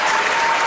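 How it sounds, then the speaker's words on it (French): Studio audience on a French TV set breaking into applause, a dense burst of clapping, loud and close, filling the short moment. "Applaudissez s'il vous plaît."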